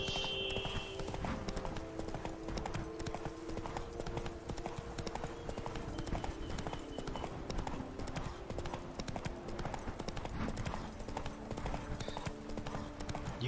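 Geralt's horse Roach gallops in The Witcher 3, a fast, steady clip-clop of hooves that runs continuously and evenly under faint game ambience.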